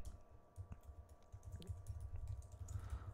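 Typing an email message on a computer keyboard, a quick run of soft key clicks over a low background hum, close and fairly quiet, no voice.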